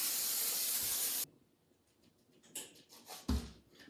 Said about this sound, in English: you're gonna grease it with some olive oil spray or some other form of cooking oil spray